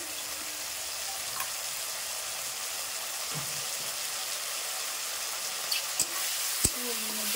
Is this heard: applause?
no